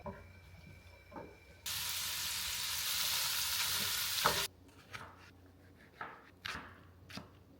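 Vegetables sautéing in a pan, a loud burst of hissing sizzle for a few seconds followed by scattered scraping and clattering stirs.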